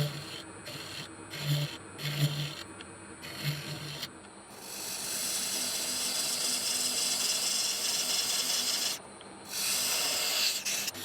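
Sanding a cast epoxy resin and pine cone piece: a few short rubbing strokes at first, then a loud continuous sanding hiss that keeps on, with a brief pause near the end.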